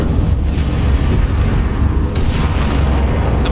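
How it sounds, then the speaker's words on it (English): Bombing explosions in the World War II shooter game Enlisted: loud, close, continuous booming rumble that fills the whole stretch, with sharper blasts standing out now and then. "Stop goddamn bombing this"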